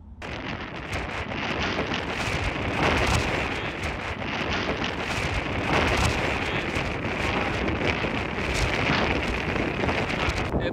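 Strong wind blasts a microphone as a cyclist rides into a hard headwind on the Tour Divide mountain bike route, a loud continuous roaring rumble with gusty surges and no pauses throughout.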